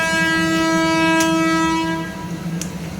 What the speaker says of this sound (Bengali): যখনই ফোন খুলবো তখনই ট্রেনের আওয়াজ